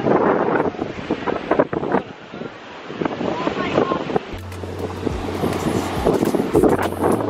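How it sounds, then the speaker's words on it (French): Sea waves surge and wash against the Maltese shore under steady wind buffeting, with a low engine-like drone joining partway through. "je vais vous montrer les vagues"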